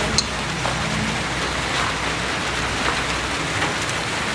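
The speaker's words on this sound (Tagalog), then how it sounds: "Sisilong tayo kasi umulan." Rain falls at dusk near a cemetery, a dense steady hiss of drops with occasional louder pattering close by, continuous for about four seconds with no voices.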